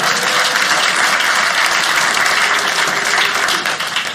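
A large comedy-show audience applauds steadily, a dense, loud wash of clapping that holds throughout and eases slightly near the end.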